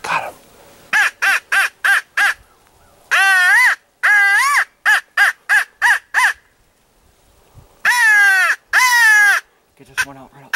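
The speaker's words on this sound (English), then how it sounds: "Today we're in my backyard, enjoying some crow hunting. Let's get the call." Crow calls blown on a hand call while crow hunting in a backyard: loud, close, rhythmic caws in quick series and drawn-out wavering cries, with a brief murmur of voices near the end.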